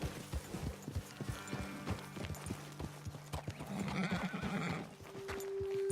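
Horses in Red Dead Redemption 2 clop along at a walk, hooves thudding in an uneven rhythm, with a short whinny or snort rising near the end over quiet outdoor ambience.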